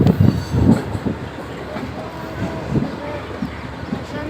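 A passenger train on the Karachi to Islamabad line rumbles along its rails through Sindh, with a steady low rolling noise and faint rhythmic clatter, while a voice talks over it near the start.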